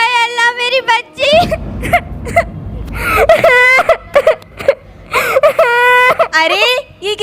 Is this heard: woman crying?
yes